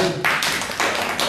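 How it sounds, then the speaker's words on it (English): Students in a live class clap in a few loud, broad bursts with nobody speaking over them. "Big clap, everybody."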